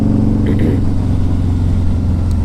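A 2003 Harley-Davidson V-Rod motorcycle running on a test ride, a loud steady low engine drone with a throbbing rumble and constant wind-like roar close by, no speech.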